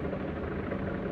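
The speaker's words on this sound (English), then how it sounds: "there's a helicopter up there" A helicopter hovers overhead, giving a steady low rotor-and-engine drone that holds even and unbroken with no talk.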